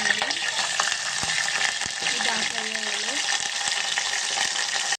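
Tempering (talimpu) for dal sizzles in hot oil, a steady, dense frying hiss that runs the whole time with faint clinks and a few voice-like tones underneath.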